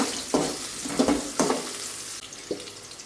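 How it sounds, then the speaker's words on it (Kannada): Green chillies and onions sautéing in oil in a frying pan, a low sizzle punctuated by four or five distinct scraping stirs, close and moderately loud with no voices. "ಇವಾಗ ಒಂದು ಬಾಣಲಿಗೆ ಎಣ್ಣೆ ಹಾಕ್ಕೊಂಡು ಹಸಿಮೆಣ್ಸಿನ್ಕಾಯಿ ಮತ್ತು ಈರುಳ್ಳಿ ಎರಡೂ ಹಾಕ್ಕೊಂಡಿದ್ದೀನಿ"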